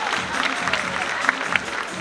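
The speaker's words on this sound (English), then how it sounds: "another big round of applause" An audience at a sea lion show in a zoo gives a steady round of applause, a moderately loud wash of many hands with crowd murmur and talk mixed in.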